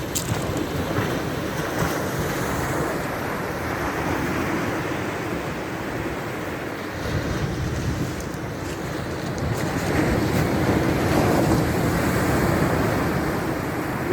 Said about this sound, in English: Big old surf.